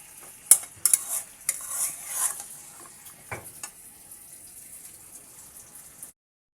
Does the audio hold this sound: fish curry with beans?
yes